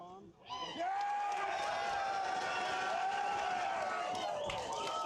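A rugby match crowd roaring and cheering in a sustained wash of noise that swells in and holds, with a commentator's voice over it.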